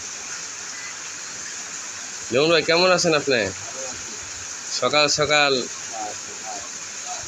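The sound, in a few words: water poured to wash grass for cows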